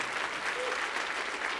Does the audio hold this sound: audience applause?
yes